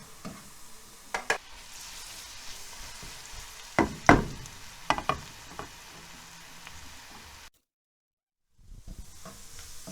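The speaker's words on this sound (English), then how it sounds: "Okay, so I'm sauteing the onion now." One medium onion, thinly sliced, sautéing in a pan, a soft steady sizzle with intermittent stirring scrapes and clicks, close and quiet, then a brief silence.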